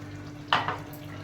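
Milk splashes into chicken biryani masala frying in a pan, a brief burst of sizzling and splashing with a second smaller splash, close and fairly loud against a quiet hum.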